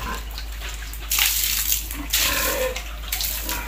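Pigs in a small backyard piggery slurp and suck up water, a wet sloshing and bubbling sound in a few louder bursts over a steady low hum, close by.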